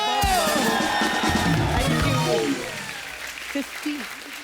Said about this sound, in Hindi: उषा जी के लिए इस बात के ऊपर तालियां बनती हैं